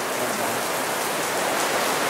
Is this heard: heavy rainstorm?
yes